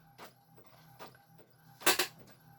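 An inkjet printer runs through a sheet of paper, its print head sweeping in a few soft rhythmic passes before a louder mechanical whirr near the end, close by with no talking.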